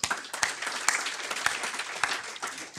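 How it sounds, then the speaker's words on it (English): Steady applause from an audience at an industry forum, a dense patter of many hands clapping at moderate volume without a break, following the introduction of a marketing manager. "A round of applause for Christelle, everyone."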